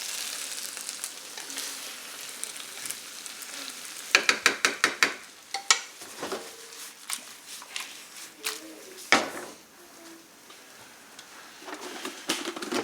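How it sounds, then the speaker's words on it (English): Vegetables and sauce stir-frying in a pan, a steady sizzle with scraping stirs and a burst of quick clatters from the utensil against the pan partway through. "I'm going to let that sauce just kind of mix with all these vegetables"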